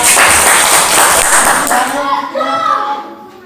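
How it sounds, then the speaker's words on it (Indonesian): Loud classroom clapping for a student group, dense and close for about two seconds, then dying away as voices talk over the tail. "Tepuk tangan untuk kelompok 4."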